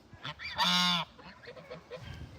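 A single loud goose honk rings out close by, surrounded by softer honks and cackles from other geese.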